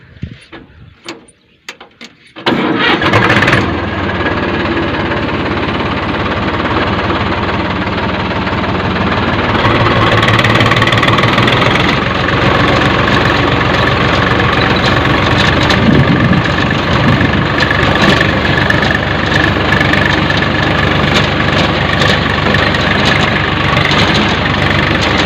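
A tractor engine starts up after a few seconds of quiet handling sounds, then settles into a steady, loud, low idle and run before field harrowing, the drone continuing unbroken to the end.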